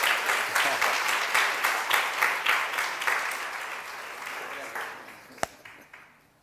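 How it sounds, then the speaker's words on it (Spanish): A church congregation applauding, rhythmic unison clapping that is loud and close at first, then gradually thins and fades, ending with one sharp knock near the close. "Recibimos a nuestro querido Ricardo con un fuerte aplauso aquí."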